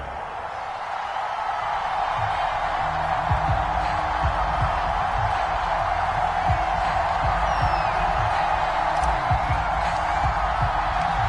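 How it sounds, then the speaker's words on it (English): Sellout stadium crowd roaring in an EA Sports NFL video game ahead of a Falcons versus Steelers matchup, a loud, continuous, dense wash of cheering that swells early and holds steady. "Somehow this place got even louder a short time ago as the Falcons were introduced to this sellout crowd."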